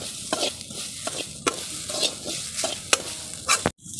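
Grated coconut dry-roasted in a pan for a soya chunk curry, with repeated scraping stirs and a light sizzle running throughout, close and fairly loud, no talking.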